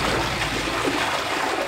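A Sésame toilet flushing after its flush button is pressed, a steady rushing and gurgling of water that runs continuously at moderate level with no voices.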